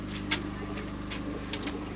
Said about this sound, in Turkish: Bayağı güvercin doldu buralar.